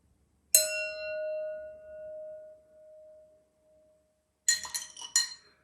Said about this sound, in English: I make a little gong.